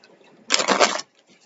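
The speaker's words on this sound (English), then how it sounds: "I'm going to shuffle real quick, y'all." Tarot cards being shuffled, a single brisk riffle of about half a second, close and fairly loud, with quiet surroundings before and after.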